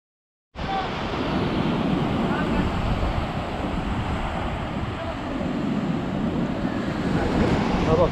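Ocean waves surge onto a Konkan beach in a steady, continuous roar of surf with wind noise buffeting the microphone, loud and close throughout after a short silent start.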